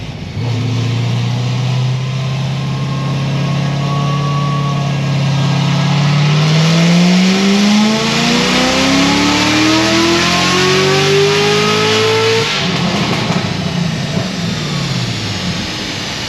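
A Chevrolet Corvette C7 Z06 engine revs on a dyno, its loud, close drone climbing steadily in pitch through one long continuous pull before dropping off at the end, with no voices.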